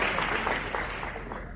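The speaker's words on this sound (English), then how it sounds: "Ladies and gentlemen, another round of applause for Mr." An audience at a South African colloquium applauds a speaker, a steady wash of clapping filling the whole short stretch at even loudness with no voices on top.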